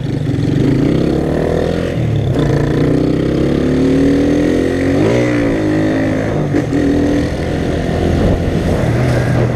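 A new Honda CB Twister motorcycle is revved loudly up close in a continuous engine roar, with the pitch rising and falling as the throttle is blipped over several seconds and no speech.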